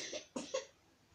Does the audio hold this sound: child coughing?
yes